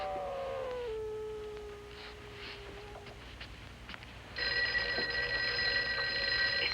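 A dog howls in a long falling wail at close range, then a telephone bell rings on loudly and continuously.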